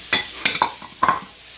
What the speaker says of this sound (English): We're going to let them kind of saute a little bit